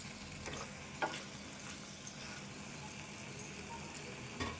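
Potato and tomato pieces frying in a steel kadai, a faint steady sizzle with occasional soft clicks and scrapes of stirring, no talking over it.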